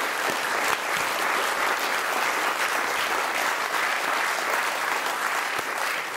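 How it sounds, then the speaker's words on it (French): Loud, sustained applause from a theatre audience, a thick unbroken roar of clapping hands with a few sharper claps standing out now and then. "je voulais qu'on l'applaudisse très fort"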